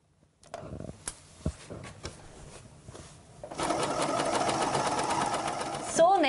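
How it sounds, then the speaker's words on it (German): A sewing machine stitches the left and right side seams of a garment, starting after several clicks and handling noises and then running in a steady, close, rapid mechanical whir. "So nähen wir die linken und die rechten Seitennähte zusammen."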